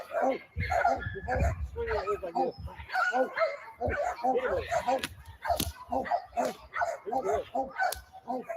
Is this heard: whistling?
no